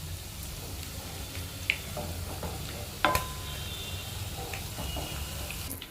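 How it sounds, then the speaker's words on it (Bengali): Rohu fish balls fry in hot oil with a constant close crackling sizzle. A couple of sharp utensil knocks come as they are turned and lifted. "এবার ঠিক সেম ভাবে বাকি যেগুলো বাকি আছে সেগুলোও ভেজে নেবে।"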